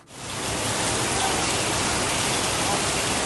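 Heavy monsoon rain pours down in Kalyan, a loud, dense and steady hiss that swells in within the first half second and then holds without a break.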